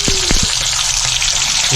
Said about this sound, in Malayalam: നമ്മൾ സ്പൈസ് നോക്കിയിട്ട് 2 ചെറുതും കൂടി ഇട്ട് കൊടുത്തിട്ടുണ്ട് വറുക്കാനായിട്ട്